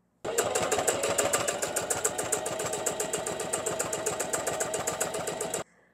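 A sewing machine runs a zigzag stitch along the edge of linen fabric, a fast, even mechanical rattle of needle strokes heard up close for about five seconds before stopping abruptly.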